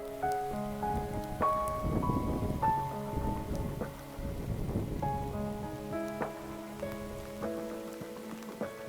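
Steady rain falls on a wet morning in the French countryside near Pont-sur-Yonne, a soft continuous patter under quiet, ringing tonal tones that come and go.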